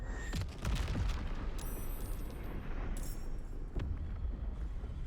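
Cannons booming in Baldur's Gate 3, several heavy blasts spaced across a few seconds over a steady rumbling battle backdrop, fairly close and loud, with no speech.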